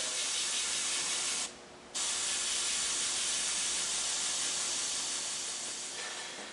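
Steady hiss of an airbrush spraying paint, close and continuous, with one brief pause before the spray resumes.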